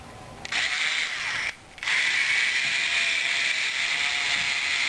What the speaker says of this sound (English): Now we'll drill a bigger hole.